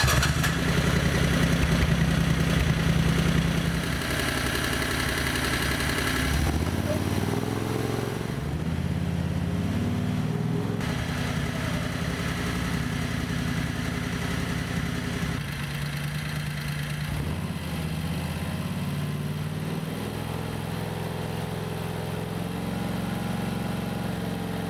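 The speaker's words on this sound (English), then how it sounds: "the best thing to do is to run the engine and watch what the belt's doing" A 670cc Predator gasoline engine in a Renault, fitted with a bigger carburetor, idles steadily at close range, a low chugging rumble that shifts slightly in pitch and roughness without stopping.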